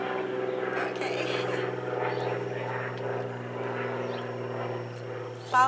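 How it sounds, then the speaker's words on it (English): A loud airplane passes overhead, its steady droning rumble holding throughout and ending with a brief sharp sound at the close. "Sorry about the airplane."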